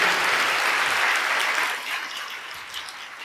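A crowd at a live Sunday session gives a full round of applause that stays thick and loud for over a second, then tapers to lighter scattered clapping as it fades.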